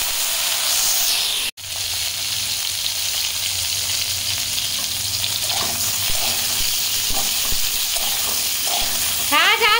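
Cauliflower fries in hot oil in a wok with a loud continuous sizzle and crackle, interrupted briefly by a sharp clank near the start and a few scraping stirs.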